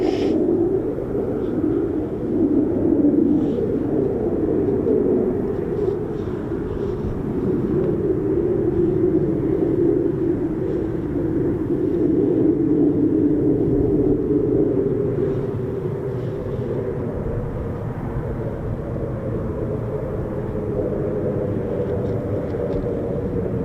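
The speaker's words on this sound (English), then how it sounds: "great start to the morning with 4 F-35Bs" Four F-35B stealth fighter jets departing on a morning launch, heard as a loud, sustained, rumbling roar that swells and shifts gradually over many seconds, with no talking.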